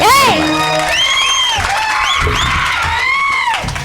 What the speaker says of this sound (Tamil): ஒரு கைதட்டு கொடுக்கலாம்